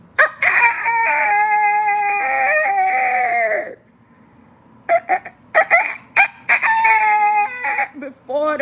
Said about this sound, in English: Before the cocks crowing.